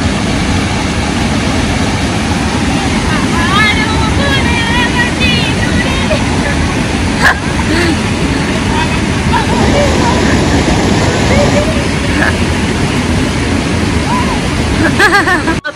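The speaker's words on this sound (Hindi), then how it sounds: "यहाँ पे ना इतने भयंकर तरीके से पानी नीचे जा रहा है ना" Water rushes steadily down a forest stream in the hills, a loud broadband roar filling the whole stretch, with voices talking over it at times.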